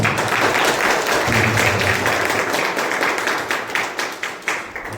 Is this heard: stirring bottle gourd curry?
no